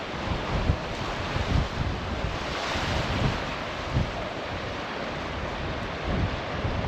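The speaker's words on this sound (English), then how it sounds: "So we stood up in the wind a bit here, guys, so hopefully the little windsock will work on." Strong wind buffets a GoPro Hero 12 fitted with a small windsock by the sea, a steady roaring rush with gusty thumps throughout and no voices.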